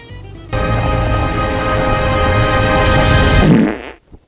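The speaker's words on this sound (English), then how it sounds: "would you mind not farting while I'm saving the world?" A long, loud, buzzing fart sounds close up and alone, holding steady for about three seconds before sputtering out with a brief flutter at the end.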